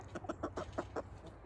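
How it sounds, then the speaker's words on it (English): Rooster clucking in a rapid run of short, throaty calls, close by, with quieter background chatter underneath. "Oh, there's my rooster."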